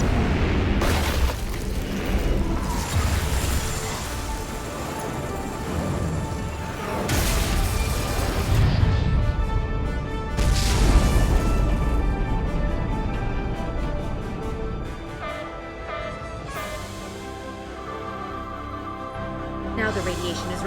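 Weapon salvo explosions from the Star Trek Resurgence video game, heavy booms and bursts repeating over roughly twenty seconds amid a dense layer of game music and effects, with characters speaking in between.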